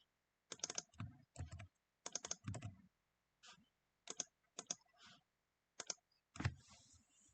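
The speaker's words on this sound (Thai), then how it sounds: "ลองพิมพ์ดูก่อนนะครับพิมพ์ดูก่อน" Typing on a computer keyboard while working on a Raspberry Pi license plate recognition project: short bursts of close, clicky keystrokes separated by pauses, ending in a slightly heavier flurry of key presses.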